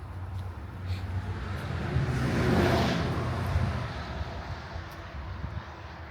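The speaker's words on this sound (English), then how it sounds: "Because you could hear the traffic" Road traffic on highway 58 heard from a garden, a steady distant roadway hum that swells as a vehicle passes and then fades, with no talk.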